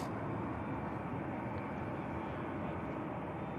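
A Saudia airliner touching down at Manchester Airport, a dense, steady roar of jet engines and rushing air, loud and unbroken for the whole stretch.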